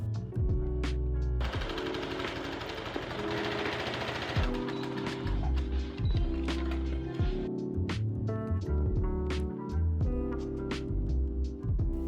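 A sewing machine top stitching a sundress made from a tablecloth, loud close rapid mechanical chatter in bursts broken by brief pauses and clicks, with no speech.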